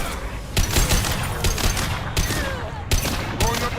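Rapid gunfire in a Mass Effect 2 shootout, loud close bursts and single shots cracking out in clusters over a dense battle din with no pauses.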